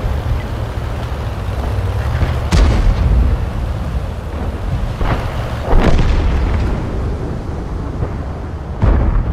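Gunfire and explosions from tank combat in a video game: a continuous low rumble of battle broken by three heavy booms, each a sharp blast that rolls away into the background.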